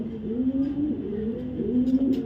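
Black racer pigeon cooing steadily up close, a low continuous warble with no talking over it.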